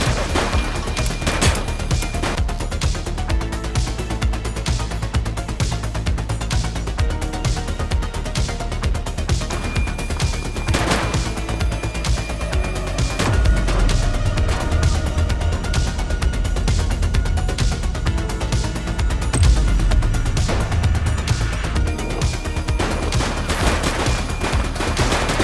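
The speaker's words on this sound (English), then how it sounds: "He's shooting!" Gunfire in the police video game The Precinct: a dense run of loud, rapid sharp shots and bursts repeating throughout, close and continuous with no talk.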